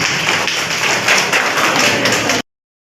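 Dense crowd applause at a hospital award ceremony in Gudur, many hands clapping steadily and fairly loud, stopping abruptly just before the end.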